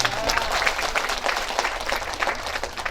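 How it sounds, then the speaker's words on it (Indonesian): Crowd applause at a community event handing out Eid gift packages to health post volunteers, a steady, dense clapping sustained throughout with some faint voices mixed in. "Tepuk tangan buat Pak Nario"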